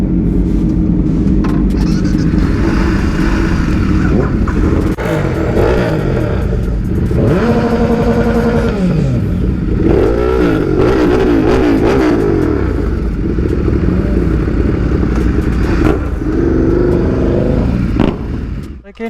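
A BMW R18 motorcycle on a demo ride, its engine rumbling steadily with rising and falling revs as it accelerates and shifts, loud and close throughout with wind noise.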